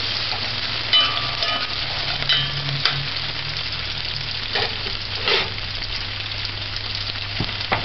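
Food, likely including corn beef and green peas, sautés in a hot pan with a steady broadband sizzle, close and continuous, with a few soft stirring knocks and no speech.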